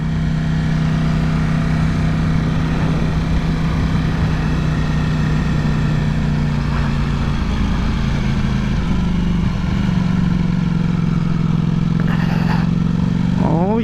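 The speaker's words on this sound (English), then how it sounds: "Understanding where to engine brake at, so that way I can slow the bike down." A motorcycle engine drones loudly and steadily as the rider rolls downhill on engine braking, with a deep, sustained tone that shifts pitch near the end, mixed with wind rush.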